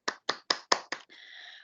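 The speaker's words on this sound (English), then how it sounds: "Let's give year 5 a huge round of applause." Applause at a school assembly for Year 5 comes through as five crisp, evenly spaced claps up close, followed by a brief sustained tonal sound.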